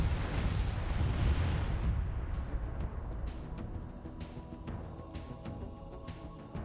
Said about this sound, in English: Oh, there's the cannon.